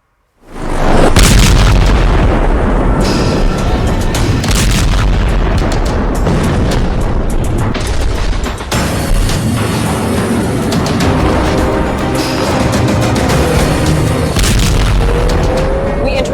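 Loud, sustained booming blast and rumbling debris roar used as a bomb explosion effect in a breaking news emergency broadcast about a dirty bomb, continuing dense and heavy throughout with no pause.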